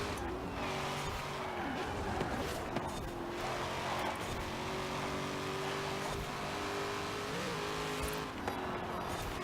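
Chevrolet Corvette Z06 in Forza Horizon 4, its engine droning steadily as it accelerates, with a sustained tone that rises slowly and continuous road and tire noise under it throughout.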